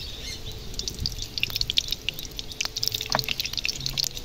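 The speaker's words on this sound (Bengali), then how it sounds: "কড়াতে সর্ষে তেল দিয়ে দিচ্ছি।" Mustard oil goes into a wok, making light, close dripping and pattering sounds with soft, bright crackles scattered across a few seconds.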